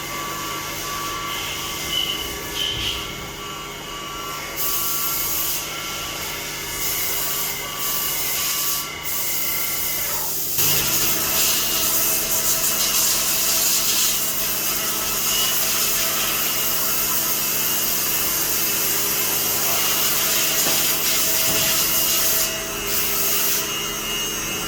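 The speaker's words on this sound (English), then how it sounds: "This video introduces the processing of aluminum alloy parts." A CNC lathe machines aluminum alloy parts, giving a continuous, loud grinding and rasping tone with shifting pitch throughout and no talking.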